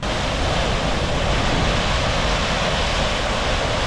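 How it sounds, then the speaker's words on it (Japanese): Otodome Falls, a thick waterfall pouring into a large plunge pool, gives a loud, steady, close roar of rushing water with no break and no voices. "左側には太い滝が流れてて、大きな滝壺を作り出していました。"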